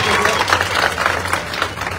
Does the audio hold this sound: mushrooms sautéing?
no